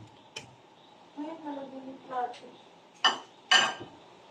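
Clinks and clatters of kitchenware ring out, with two sharper knocks near the end as corn is dropped into a pot of boiling water; faint talk in the background.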